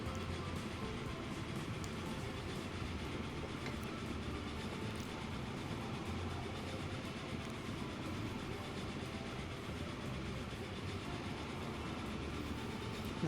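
Train running in the video game Transport Fever 2, heard as a steady, continuous rumble with faint clickety-clack from the rails, holding an even level throughout with no pauses.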